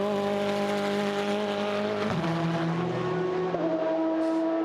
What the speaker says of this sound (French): 39e changement de leader avec la Ferrari numéro 51 qui passe en tête